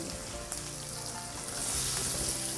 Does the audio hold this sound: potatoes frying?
yes